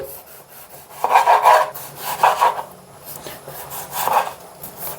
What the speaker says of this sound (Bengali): টমেটো কাটছি